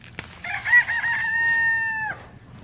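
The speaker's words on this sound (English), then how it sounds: "A lot of times when he's hollering at the other rooster." A rooster crows once, loud and close, in a long drawn-out call that holds steady before cutting off, preceded by a brief sharp click, with no talk.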